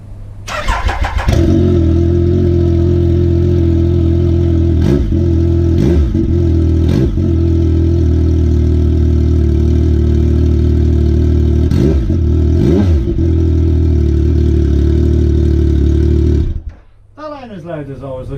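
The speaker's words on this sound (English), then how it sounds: "I see how she sounds. With no silencer." A Triumph Sprint GT1050 motorcycle engine runs with no silencer fitted, a loud raw idle with a steady throbbing tone and several sharp blips of revving before it cuts out near the end.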